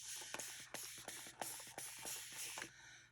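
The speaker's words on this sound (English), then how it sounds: "I'm going to spray my water down" A spray bottle mists water in a quick series of short hissing squirts, roughly a dozen in a steady rhythm, close and fairly quiet.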